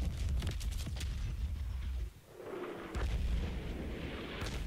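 Artillery fire in the Battlefield 1 video game on Cape Helles, heavy booming blasts and rolling explosions close by, with a brief lull between the bursts.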